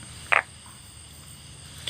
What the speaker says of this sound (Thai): อึ่งอ่างที่ร้องดังตามบ้าน